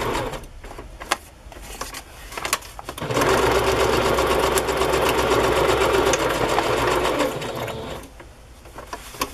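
A sewing machine stitches a handmade music journal in a steady, close whirring run of about five seconds, framed by quieter handling clicks before and after.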